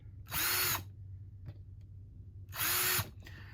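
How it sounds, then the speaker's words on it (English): A power drill bores into door hinges in two loud, steady bursts of about half a second each, separated by a quiet pause with a faint click, over a low background hum. "Sorry, I gotta drill these hinges."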